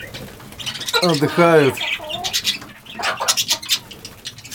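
Small pet parrots chirp and squawk in quick, bright bursts close by, with someone speaking a word in between the calls.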